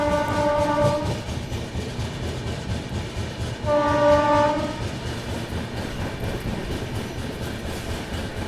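The Maharashtra Sampark Kranti Express runs through Tughlakabad with a continuous rolling rumble and wheel clatter, while a loud harmonic horn blasts twice, once at the start and again midway.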